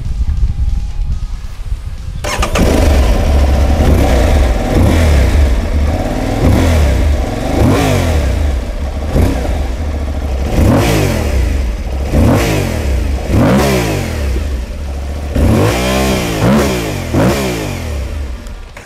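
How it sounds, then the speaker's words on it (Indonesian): An Aprilia Tuareg 660 adventure motorcycle with a 660 cc DOHC parallel-twin engine starts up after a brief quiet moment, then idles loudly and close by, broken by repeated sharp throttle blips that rise and fall, ending in a longer rev. "Itu dia suara raungan dari mesin 2 silinder segaris DOHC berkapasitas 660 dari Aprilia Touareg 660"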